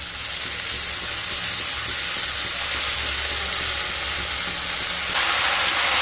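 Washed, chopped water spinach sizzles loudly in a hot pan, a dense, continuous frying hiss with faint stirring underneath, close and unbroken throughout.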